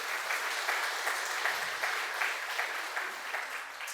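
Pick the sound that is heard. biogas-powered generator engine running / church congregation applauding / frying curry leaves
church congregation applauding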